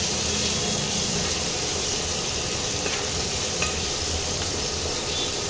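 Two large chopped onions fry in oil in a pan for a steamed egg dish, giving a dense, even hiss and crackle that holds steady throughout with only faint stirring.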